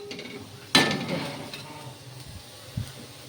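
Beetroot and carrot fry in a pan: a sharp utensil clatter, then a soft sizzle and stirring, with another brief knock near the end.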